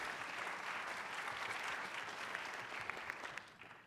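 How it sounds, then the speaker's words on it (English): Audience applause at a talk, a sustained patter of many hands clapping at moderate distance that thins out and fades toward the end. "I think we ought to give life a round of applause for that one"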